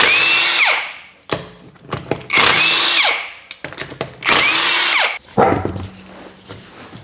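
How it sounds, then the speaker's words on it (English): Power impact tool spinning lug nuts off a Nissan Pathfinder wheel during a rear coil spring support job: three loud, close whirring bursts with pitch sweeps, separated by short pauses and clinks of nuts. "I've already got them broke loose and I'm just going to spin them off"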